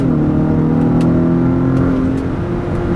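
2019 Acura RDX with a 10-speed automatic, driven in manual mode, accelerating with a loud, steady engine drone that rises in pitch, heard from inside the cabin.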